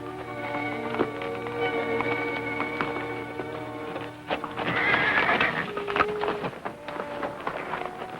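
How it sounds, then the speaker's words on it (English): A horse whinnies in a drawn-out neigh, followed by snorting and shuffling hooves nearby, fairly loud and close. "Thought I heard a horse whinny."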